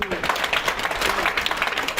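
A classroom crowd claps in dense, steady applause, with voices mixed into the noise.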